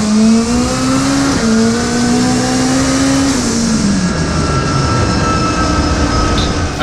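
A 1400-horsepower all-wheel-drive nitrous-fed Honda Civic race car accelerates hard with a loud, rising engine whine, then the pitch drops as a gear shifts. The roar stays steady and close, with no talking.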